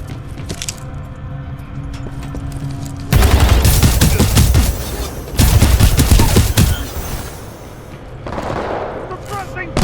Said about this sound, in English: Suppressing fire! Keep it pinned!